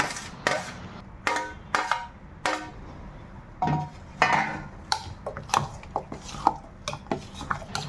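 A spoon stirs and clatters through a batter of grated cucumber, carrot and onion in a bowl, giving a string of irregular scraping knocks and clinks with short gaps between them, close and fairly loud, with no voices.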